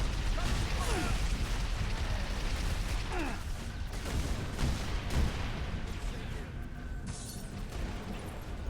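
Enemy gunfire crackles in Halo Reach during a night battle, bursts of shots and booms rolling along for several seconds at moderate loudness, mixed with game noise and intermittent voices.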